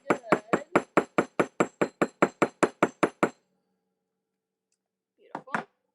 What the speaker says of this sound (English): when I hammer using that motion, I'm able to help glide that metal in the direction that I want it to go